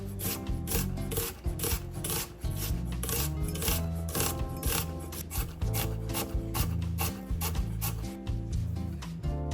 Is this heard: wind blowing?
no